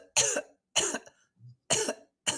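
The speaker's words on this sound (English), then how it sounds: "although I have the slight cough" A person's slight cough comes as a few short, dry bursts spaced apart, close to the listener, with a brief low throat sound between them.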